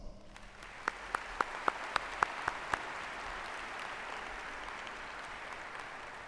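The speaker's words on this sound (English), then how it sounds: "Let's give them a round of applause." Audience applause at a 2016 Strongsville City Schools commencement, a steady wash of clapping from a large crowd with a few sharper, louder claps standing out near the start.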